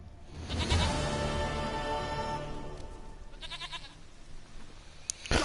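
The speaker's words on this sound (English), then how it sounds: "Goat of mine, dearest, sweetest goat." A goat in The Witcher 3 lets out a long, wavering bleat up close, followed by a shorter second bleat, with faint game ambience behind.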